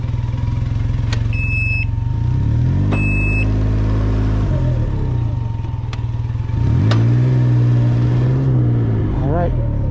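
A car engine runs steadily throughout with loud, close cabin rumble, shifting pitch as the vehicle slows, reverses and turns around on a town street, with a few electronic beeps mixed in.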